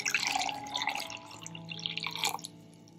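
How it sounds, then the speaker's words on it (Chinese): A cup of water is poured into a sauce mixture of oyster sauce, soy sauce, salt, sugar and cornstarch, giving faint splashing and trickling bursts that come and go over a quiet kitchen background. "加一杯水，"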